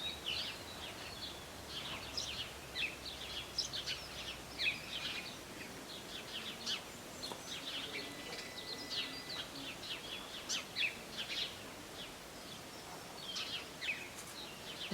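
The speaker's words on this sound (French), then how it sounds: "Écoutez le chant des oiseaux" Birdsong chirps and tweets scattered through an outdoor scene, several birds calling repeatedly at a moderate distance over a soft, steady background of rustling air.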